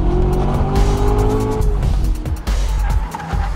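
A 2014 Corvette Stingray V8 fitted with the performance exhaust system roars loudly and continuously, its engine note climbing and shifting with a brief dip near the middle, with some tire squeal mixed in and no talking.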